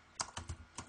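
Several quick keystrokes on a computer keyboard, a short irregular burst of clicks heard close and quiet.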